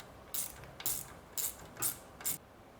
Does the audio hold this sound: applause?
no